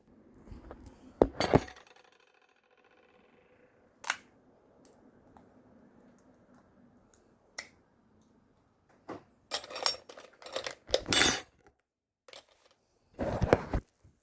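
Small metal teaspoon prying open steamed cockle shells, giving scattered sharp clinks and clicks of metal against shell, some isolated and others in quick clustered bursts, close by in a quiet room.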